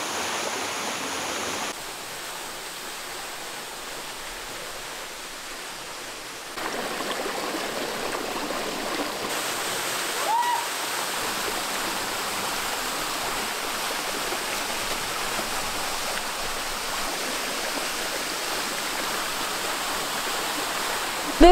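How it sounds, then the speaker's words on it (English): A waterfall pours in a steady, even rush of white water that stays loud and close throughout, with a slight rise in level partway through and no voices over it. "It's such a beautiful waterfall"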